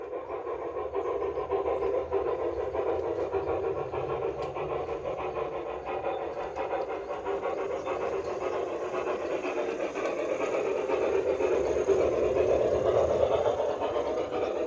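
A model garden railway train runs steadily outdoors, with a continuous rattling rumble and faint clicking that stays even throughout, with no talking.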